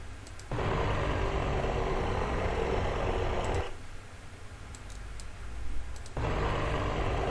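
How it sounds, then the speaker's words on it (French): The engine of a Robin DR221 light aircraft in the X-Plane flight simulator drones as a steady hum, broken by a quieter stretch in the middle before the full engine noise returns. "on va diminuer un peu le bruit du moteur, bien que il ait une jolie sonorité"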